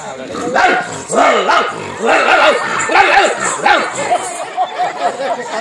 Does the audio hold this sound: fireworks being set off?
no